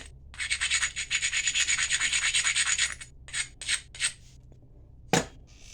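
A fine carbide abrader scrapes along the edge of a glass tile atlatl point in a rapid run of harsh, gritty strokes, then three shorter separate rubs, followed by a final sharp scratch.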